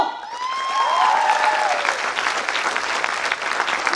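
Loud crowd applause fills a hall at a company's second anniversary celebration, a dense continuous clapping wash, with a brief whistle-like squeal at the start and faint voices under it.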